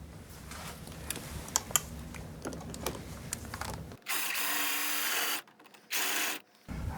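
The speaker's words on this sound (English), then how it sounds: "the drill made pretty fast work on this side through this little piece of plywood" Light clicking and tapping give way to a loud, steady power drill whir boring through a small piece of plywood, stopping, then a second short burst.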